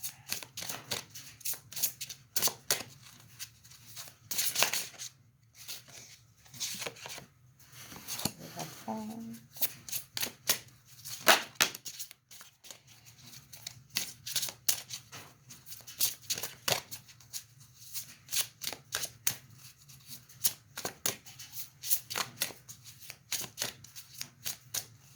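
Archangel Michael oracle cards shuffled by hand at close range, repeated soft riffling and slapping bursts in an irregular rhythm over a quiet room hum, with a brief murmur of voice partway through.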